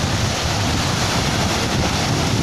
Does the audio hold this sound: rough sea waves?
yes